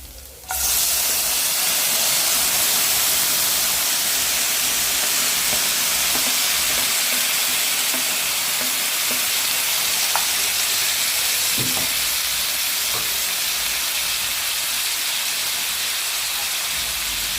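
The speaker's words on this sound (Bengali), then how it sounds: "এখন আমি টমেটোগুলো সবার আগে এখানে দিয়ে দেবো।" Tomatoes sizzle and fry in hot oil in a pan for a Bengali tomato bhorta, a steady loud crackling hiss that starts abruptly and continues throughout with occasional pops, no talking.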